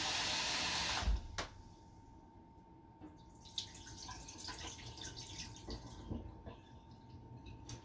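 Kitchen tap water gushes loudly for about a second while rice is rinsed, then cuts off, followed by quieter sloshing, drips and clinks of grains and water being swirled in a bowl.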